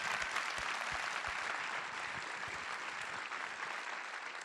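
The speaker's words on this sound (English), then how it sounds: "let's just give them a round of applause" Sustained audience applause for the projectionists at a Directors Guild screening event, a dense steady wash of many hands clapping throughout, fairly loud and easing slightly toward the end.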